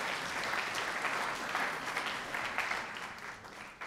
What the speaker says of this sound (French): si vous voulez applaudir